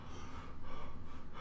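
A voice imitates nervous panting with quick, shaky, rhythmic breaths, close and fairly loud for a second and a half with no words.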